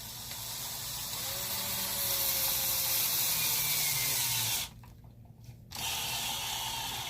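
A DeWalt DW920 cordless screwdriver whirs steadily as it struggles to drive a screw, a close, continuous motor drone that cuts out for about a second before starting up again.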